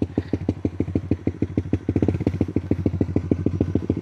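A Honda Winner X motorcycle engine with no silencer idles loud and close with an uneven, throaty, bassy rumble, its pulses quickening briefly before settling back, with no one talking.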